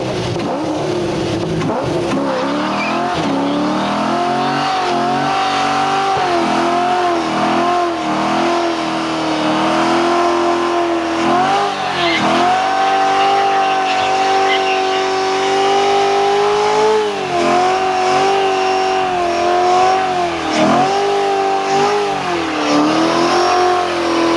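A Corvette doing a burnout, its engine revving hard in repeated rising and falling surges, loud and close, with no talking.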